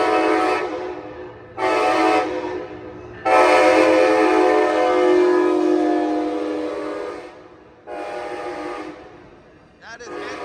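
An Amtrak Capitol Corridor train led by a Siemens Charger SC-44 locomotive arrives at Oakland Jack London Square, sounding its horn in several loud, close blasts, one long sustained note among shorter ones, over low rail rumble.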